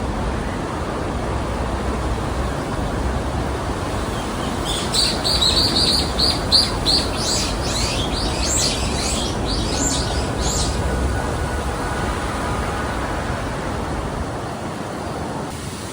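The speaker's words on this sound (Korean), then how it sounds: "짹짹대는 새소리도 좋아서 잠시 들어보겠습니다" Birds chirp and tweet in a short flurry of repeated calls on a windy hillside trail at Sarabong Oreum, Jeju, over a constant wash of wind or surf-like outdoor noise.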